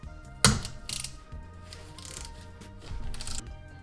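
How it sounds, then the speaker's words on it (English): Three 8mm Allen bolts being backed out of a differential carrier on a B5 S4 rear subframe, giving close, quick ratcheting bursts and metallic clicks separated by short pauses. "it's time to remove the three bolts here that hold the diff to the diff carrier"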